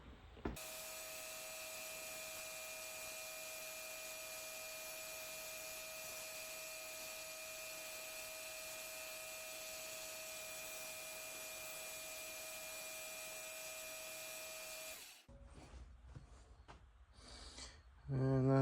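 A belt sander with a Scotch-Brite belt runs on copper and steel as a steady whirring motor whine with constant abrasive hiss for about fifteen seconds, then stops, leaving faint handling noises.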